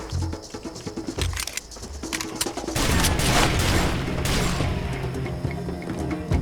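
Gunfire from a sniper fight in the shooter Far Cry 2: sharp cracks and booms, first scattered, then a dense, sustained stretch of shots and rumble filling the last few seconds.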